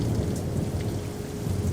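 A rain and thunderstorm sound effect plays as a dense, steady hiss of heavy rain with a low, continuous rumble of thunder beneath, loud and even throughout, with no voices.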